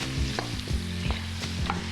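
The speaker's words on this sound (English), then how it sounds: "Okay, gonna stir that around. Get a nice saute on it. We're gonna stir fry it." Fresh vegan ingredients stir-frying in oil over high heat, a steady close sizzle broken by repeated scraping stirs, with a low hum running underneath.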